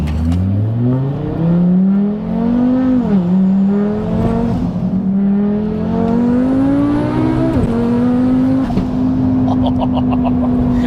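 A fully built 800bhp Audi RS3 8P accelerates hard through several gears, its engine note rising in long sweeps with brief dips at each shift, loud and close from inside the car, ending in a sharp exhaust crackle.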